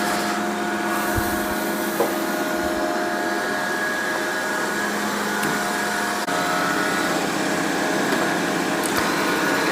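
Dreame robot vacuum cleaner running steadily as it sweeps a room, a continuous mechanical whir with a high tonal motor whine and brush hum, close and even throughout.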